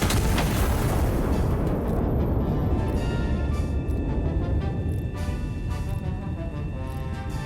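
An artillery gun fires in the Iron Nest artillery simulator game: a single loud, deep boom at the start that rolls off into a long, fading rumble with a faint tone beneath.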